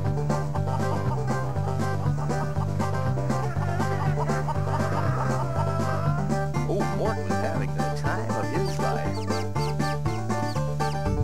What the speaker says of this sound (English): what do chickens do when the farmer goes to town? Well, they have themselves a party.